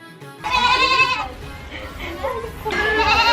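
On a goat farm, goats bleat loudly and close by in two drawn-out, wavering calls separated by a short pause, with faint background chatter.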